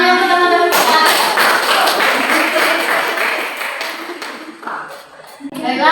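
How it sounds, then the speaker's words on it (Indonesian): A class of students bursts into a flurry of quick, overlapping claps in an Islamic history lesson, after a teacher speaks. The clapping thins and fades before the teacher's voice returns. "Nah, tepuk tangan yang pertama-tama."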